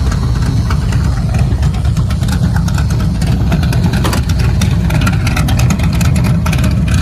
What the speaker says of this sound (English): And that's your sound with the exhaust cutouts.